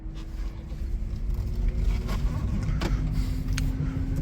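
A Smart Fortwo electric car rolls down through a parking garage with its windows open, giving a low, steady road rumble and faint whirring, with a few soft knocks and creaks and no voices.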